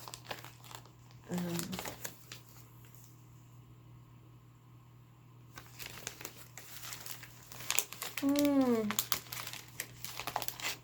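Plastic packaging crinkles and rustles in bursts, close and moderately loud, while a person talks at times and a faint steady hum runs underneath.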